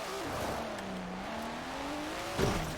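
A 2002 Nissan Skyline GT-R R34 V-Spec II launching from a standstill in Forza Horizon 4: a steady engine drone climbs in pitch, with a brief tire squeal near the end.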